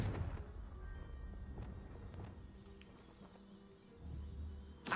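Confringo blasting-spell explosions in the Hogwarts Legacy video game: a muffled low boom at the start, a quieter rumbling stretch, then another deep blast building near the end, all fairly soft.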